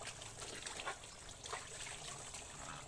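Clear mountain spring water trickles and splashes close by, a continuous light gurgle with small bright spurts, running alone without speech.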